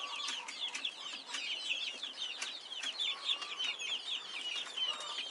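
White guinea fowl in a coop with a tree inside keep up a busy stream of clucks and chattering calls, overlapping and fairly faint, with no people talking.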